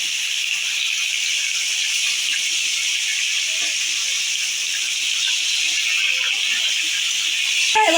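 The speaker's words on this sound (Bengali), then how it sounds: "এবার এখানটা এই মাছটা কড়াই দিচ্ছি, এই মাছটা উল্টে দিচ্ছি।" Fish and potato fry in hot oil in a wok, giving a steady, loud hissing sizzle that runs throughout, with a brief clatter near the end.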